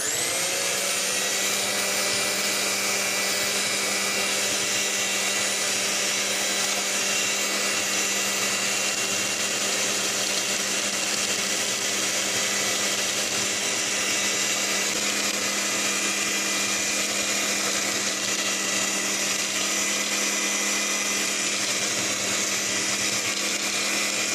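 An electric mixer whirring through red batter, a steady, loud motor drone with a constant pitch that runs unbroken for over twenty seconds, with no talking.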